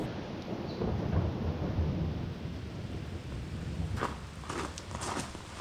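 A thunderstorm with rain: low rumbling thunder and steady rainfall, heard from a home building site, fill the air at a moderate level, with a few sharper knocks and crackles toward the end.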